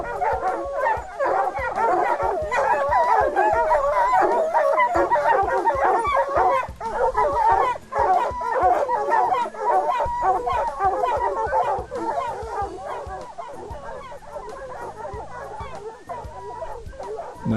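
Hunting dogs baying frantically at a mountain lion treed in New Mexico, a continuous chorus of yelping barks and howls, close and loud.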